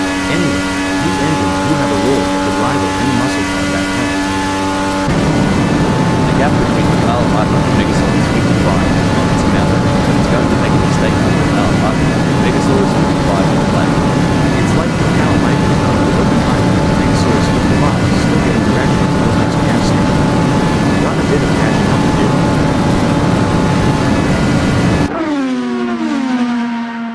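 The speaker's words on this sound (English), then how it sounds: "These engines aren't just humming for fun" Apex Indycar engines race at Atlanta Motor Speedway in the Assetto Corsa sim, producing a loud, continuous, high-pitched whine that shifts slightly in pitch and runs almost without a break beneath a voice talking over it.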